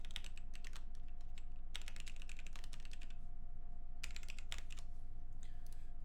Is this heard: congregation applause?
no